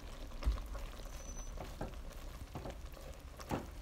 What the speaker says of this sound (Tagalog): Halu-haluin lang po natin para po sumipsip po or i-absorb ng ating taro leaves ang ating coconut milk.